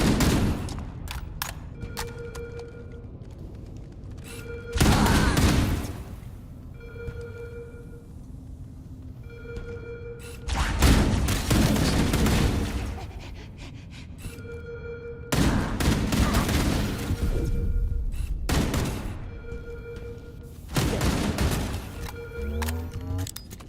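Heavy gunfire in the shooter game Halo: Campaign Evolved erupts in loud bursts several seconds apart, over a tonal alarm-like background.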